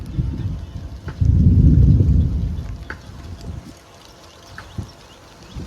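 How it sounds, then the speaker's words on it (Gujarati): A deep, loud rumble of thunder swells and fades over a few seconds above soft background rain, followed by a few faint taps. "ગાજી રહ્યો છે તમને સંભળાતું હશે"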